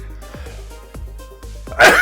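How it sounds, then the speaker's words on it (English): A single sharp sneeze bursts out near the end, loud and close, after a quiet stretch of faint background tones. "I'm going to sneeze."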